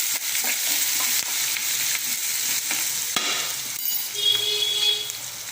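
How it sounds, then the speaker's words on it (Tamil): Tomatoes sauté with salt in a hot pan, a steady close sizzle of frying broken by the scrape and clink of stirring, with a brief thin hiss near the end. "தக்காளி கொஞ்சம் வதங்கட்டும்"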